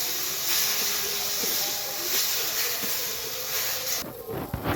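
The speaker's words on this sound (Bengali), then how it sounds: "দেখুন এবারে সাবু দিয়ে ঘিয়ের সাথে আমি ভাজতে থাকবো।" Sago pearls frying in ghee for sabudana laddu give a steady, fairly loud hiss and sizzle that runs throughout, with a few soft clinks near the end.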